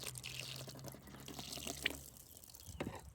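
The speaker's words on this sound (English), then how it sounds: "So when I pour water on here," Water pours from a cup onto a tabletop, a soft splashing trickle running for a few seconds with a brief spatter near the end, close and fairly quiet.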